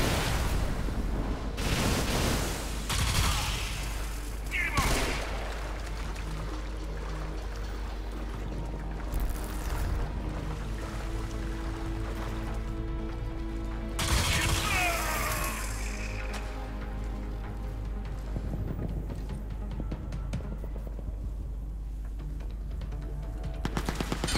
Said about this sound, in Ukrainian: і кулемет мене знайшов